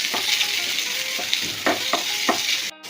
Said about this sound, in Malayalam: എന്നിട്ട് ഇളക്കി കൊടുക്കാം.